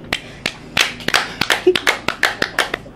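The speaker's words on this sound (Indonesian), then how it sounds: "Tepuk tangan dulu lah." A small group of people claps hands at a talk show, with close, sharp, irregular claps that build into a short, steady round of applause.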